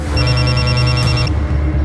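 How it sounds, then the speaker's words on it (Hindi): Telephone ringing in a dramatic scene as kidnappers call again: a loud, steady electronic ring with a pulsing high tone that cuts off after about a second, leaving a low hum. "तभी एक बार फिर गुंडों का फोन आया।"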